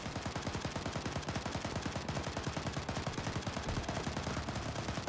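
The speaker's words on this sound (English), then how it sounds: "they were facing every rifle in the town firing directly at them" Rapid rifle gunfire from the military shooter Arma 3 rattles nonstop, many weapons firing together in a dense, loud, evenly spaced barrage with no pauses.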